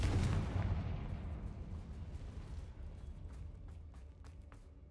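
A Confringo fire spell explodes in the Hogwarts Legacy game: a loud, booming blast at the start, then a rumbling, crackling tail of debris and fire that slowly fades over several seconds.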